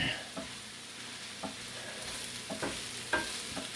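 Cabbage and kielbasa stirred in an enameled cast iron pot, a quiet steady sizzle under a series of soft scraping strokes and light clacks of a utensil against the pot, with no voices.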